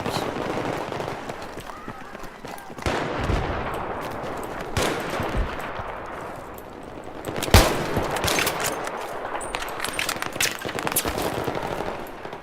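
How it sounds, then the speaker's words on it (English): Video game gunfire from an M98B sniper rifle and M9 pistol during gameplay, with repeated sharp shots including one loud crack amid busy in-game combat noise. "So of course I'm using the M98B with my M9 pistol as my backup."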